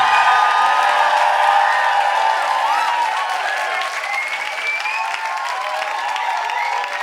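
A live concert crowd in London applauds and cheers loudly and steadily throughout, a dense wash of clapping with scattered whoops and shouts close by.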